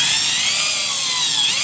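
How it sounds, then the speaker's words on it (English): Auger-style drill boring into soil to set moisture probes at 6, 12 and 18 inches along a crop row, a steady high whine held throughout, close and loud with no voices. "So here we go, just drilling in."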